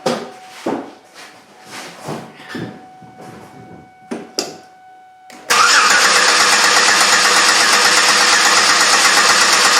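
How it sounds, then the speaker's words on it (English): A 2003 Chevrolet Impala with a misfire cranks and catches with the gas pedal held down, breaking into a loud, steady engine roar after a few quiet knocks and shuffles. "hold the gas pedal down while I crank it just to listen to see what it sounds like"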